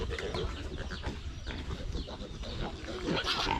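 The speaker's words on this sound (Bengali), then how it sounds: "এই শুকর" A pig in a hill village gives rough, close grunts and snorts in quick bursts for a few seconds, fairly loud against the outdoor background.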